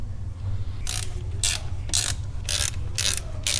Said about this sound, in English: So we'll install these 2 Torx screws.